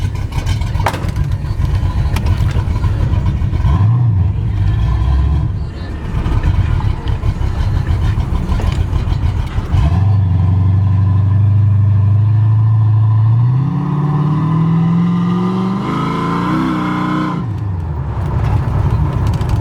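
A 1980 Chevrolet C10 Scottsdale restomod pickup with a 383 stroker V8 runs loud and close, a rough idle and blips giving way to a long sustained rev that climbs in pitch before settling, with faint voices now and then.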